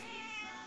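A single short, close meow from a cat, clear and unaccompanied, lasting under a second.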